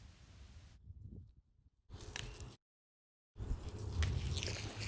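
Tender pea shoot tips on tall snow pea plants are snapped off by hand, making quiet, crisp cracks and rustles close by, broken up by short stretches of complete silence.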